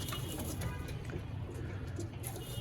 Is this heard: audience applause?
no